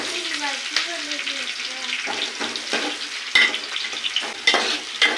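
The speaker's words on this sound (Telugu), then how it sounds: "ఉల్లిగడ్డలు కొద్దిగా వేగాలి." Onions frying in a pan give a steady, fairly close sizzle, with stirring knocks and scrapes breaking through and a brief tonal sound near the start.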